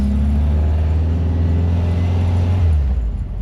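A Volkswagen Kombi van drives along a road, its engine giving a loud, steady low rumble that holds throughout with no talk over it.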